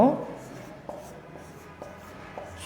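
Pen scratching on paper during a management class lesson, with soft strokes and occasional taps while a teacher speaks over them.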